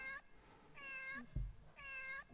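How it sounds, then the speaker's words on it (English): Three evenly spaced cat meows from a MAME arcade fighting game, each a short tonal cry, moderately loud, with a dull thump between the second and third. "Meow, meow, meow."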